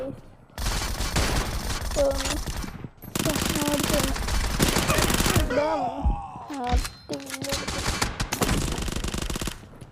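Rapid bursts of automatic gunfire from a shooting video game, loud and sustained in long volleys with brief gaps, ending in scattered shots.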